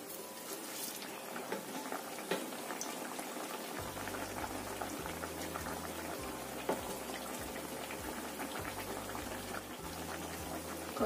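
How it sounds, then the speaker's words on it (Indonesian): Food fries gently in a pan over low heat, a soft, continuous sizzle and bubbling with a faint low rhythmic hum joining partway through. "Goreng sampai matang luar dalamnya ya."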